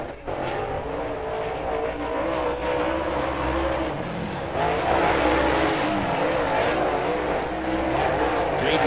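Race car engines roar around the Talladega Short Track during Ice Bowl qualifying, a steady loud growl that swells as a car accelerates off the turn, with a commentator talking faintly underneath.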